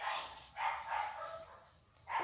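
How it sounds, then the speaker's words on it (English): A dog barks in a home, a few muffled barks at a distance, faint against the room. "What the freak is that barking dog?"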